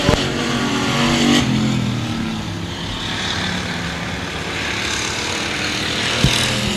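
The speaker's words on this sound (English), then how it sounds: "Manning pulls away now from Jamie Lowe as they work into 3 and 4" Race cars roar around a dirt speedway during heat races at the Bryan Mize Memorial, a continuous loud engine drone with passing surges, heard from trackside with no talk.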